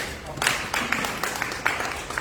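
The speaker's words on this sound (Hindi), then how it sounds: "उसके लिए ताली बजाते हैं।" A church congregation claps together in a loose, fairly regular rhythm, each beat a soft smack of many hands at moderate distance, with some background murmur beneath.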